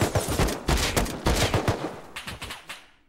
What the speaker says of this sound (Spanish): Esos tiros que has escuchado, ¿no?